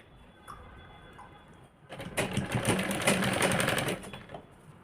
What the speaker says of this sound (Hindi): पहले हम यहाँ से ही सिलाई लगा लेंगे